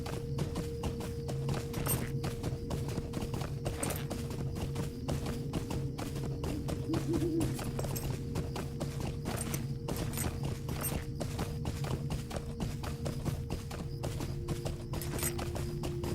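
Hooves of a horse in the video game Lord of the Rings Online clip-clop in a steady, even rhythm over a constant droning background, close and moderately loud throughout.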